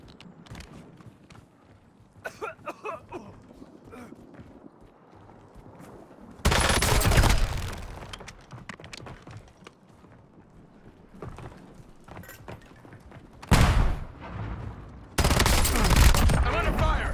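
Bursts of automatic gunfire from Call of Duty Warzone, a battle royale video game, in three loud, dense volleys separated by quieter stretches of game sound.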